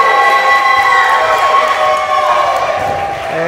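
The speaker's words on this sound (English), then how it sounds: "Something you rarely hear, a few boos in the crowd." Wrestling event crowd giving a loud, sustained mixed reaction with scattered boos and shouts, a dense wash of voices filling the arena without a break.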